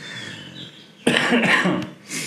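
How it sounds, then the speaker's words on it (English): A single harsh, close cough bursts out after a moment of muffled background noise, followed by a shorter throaty rasp. "As my coughing comes back again, apologies."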